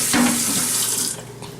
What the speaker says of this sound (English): You need to wash that. Make sure no soap is left.